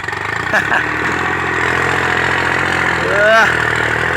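A 36-horsepower turbocharged farm tractor engine idles steadily at close range with a loud, constant mechanical drone, while someone talks over it.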